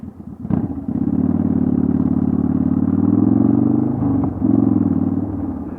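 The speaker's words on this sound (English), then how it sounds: "you're driving like somebody who doesn't know how to drive a stick" A stick-shift car lurches along with a steady engine rumble that surges and dips unevenly, with a brief clunk near the start and another hitch later, as if gears are being changed badly.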